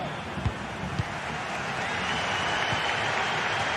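Broad, steady roar of a stadium crowd in a football video game, a continuous wash of cheering with a few soft thumps early on and no talk over it.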